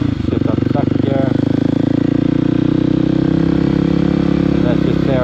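Motorcycle engine running steadily as the rider shifts up to second gear, a continuous close drone under someone talking.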